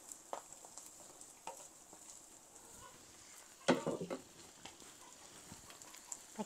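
Chorizo, güero chili and onion frying in a pan make a faint, steady sizzle, broken by a brief louder clatter of stirring midway.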